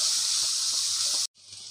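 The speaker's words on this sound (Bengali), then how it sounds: "মশলাটা আমি 1 মিনিট সুন্দরভাবে কষিয়ে নেব।" Spices frying in oil for chicken Moglai paratha give off a steady close sizzle that cuts out abruptly near the end, then faintly resumes.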